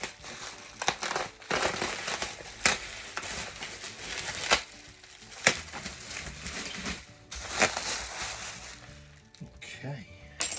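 Guitar tops being unwrapped from their packaging, with repeated crinkling and crushing bursts of wrapping material close by, some sharp rustles and tearing between quieter handling, while a person talks intermittently.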